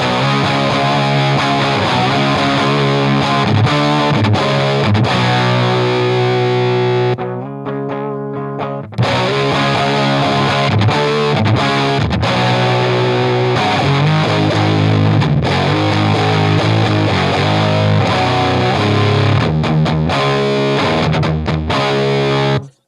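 Distorted electric guitar through a Drunk Beaver Seattle Driver overdrive pedal with mid and bass boost, playing thick overdriven grunge chords and riffs, loud and continuous, with a brief quieter break partway through.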